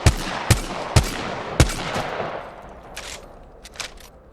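Gunshots in Apex Legends from an RE45, four evenly spaced, paced single shots fired up close, each a sharp loud crack with a ringing tail, followed by fainter distant echoes and thuds.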